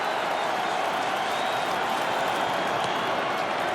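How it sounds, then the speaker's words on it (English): Cubs and Brewers baseball fans at a Brewers home game cheering and roaring in a dense, steady crowd wash that fills the stadium throughout, with no clear individual voices. "Brewer fans and Cub fans getting into it here"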